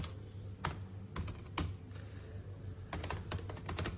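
Fingers tapping on a computer keyboard in irregular bursts, individual key clicks close and distinct over a low room hum, with no one speaking.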